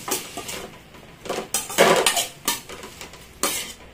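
Tomatoes sauté in a pan while a utensil scrapes and knocks against the metal in irregular bursts, close up and moderately loud, with a low cooking hiss between strokes.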